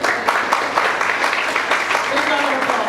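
An audience applauds at a college festival prize giving at ISKCON Vijayawada, producing brisk, uneven clapping with distinct individual claps and a voice briefly audible near the end.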